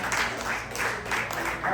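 Guests at an engagement celebration applaud the groom's family in a brief burst of moderately quiet clapping with a steady, rippling texture.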